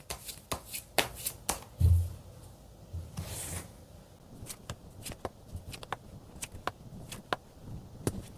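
Tarot cards being shuffled by hand in a quiet room, a series of crisp riffles, flicks and taps at irregular intervals, close and moderately loud, with no talk.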